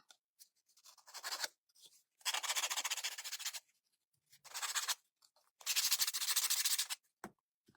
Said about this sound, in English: Let me sand my sign a little bit.